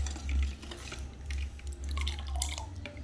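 Nungu (palm fruit) milkshake pours into a glass, giving a close, uneven liquid gurgle and splashing in short surges over a few seconds.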